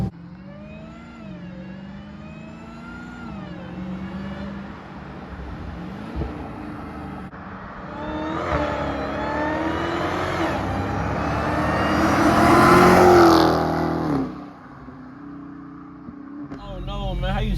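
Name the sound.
Dodge Hellcat engine revving, supercharger whine with K&N air filter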